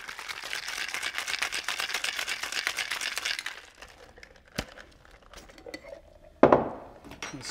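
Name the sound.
shaking gin fizz in cocktail shaker with ice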